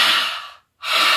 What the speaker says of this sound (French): vous contractez les cordes vocales à l'intérieur de la gorge au moment où vous expirez